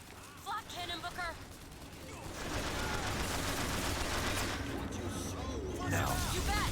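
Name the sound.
flak cannon firing in video game Bioshock Infinite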